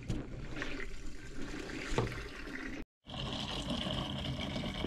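Liquid microorganism culture, some 80 to 90 litres, pours from canisters in a steady trickling, splashing stream that runs continuously, breaks off for a moment, then resumes as a brighter, fuller pour.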